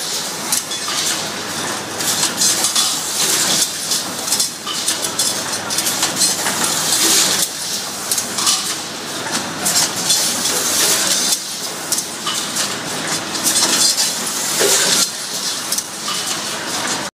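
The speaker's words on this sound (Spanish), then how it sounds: "los diferentes componentes de los rieles se van añadiendo en los diferentes dispositivos que contiene esta maquinaria" An automatic assembly machine fitting together H35, H36 and H42 telescopic drawer slide rails makes loud, continuous metallic clatter and rattling, with recurring rhythmic clanks that persist steadily throughout.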